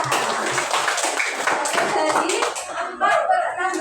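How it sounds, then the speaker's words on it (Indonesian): A grade-four classroom applauds a student, with dense, steady clapping from many hands filling the room while a voice speaks over it near the end. "Beri tepuk tangan untuk Zakira."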